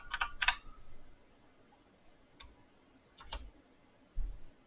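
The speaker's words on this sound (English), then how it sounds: "So in my logbook, let's type in his call sign" A ham radio operator types a call sign into a logbook on a computer keyboard, giving quiet, crisp key clicks in short clusters separated by pauses, with a faint thump near the end.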